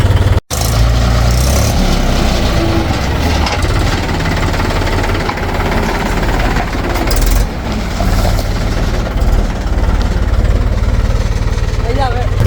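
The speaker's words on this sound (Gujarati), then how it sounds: "થોડું ટ્રેક્ટર જવા મન થઈ ગયું એટલે કાઢ્યું છે" A tractor engine runs in a village, a loud, rough, steady rumble with knocking vibration close by, briefly cut at the start, while someone talks over it.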